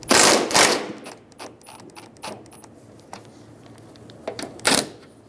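A power tool spins a strut nut loose on the top of a front strut of a 2007-2011 Toyota Camry, with loud rattling impact bursts at the start and end and quieter mechanical clicks between.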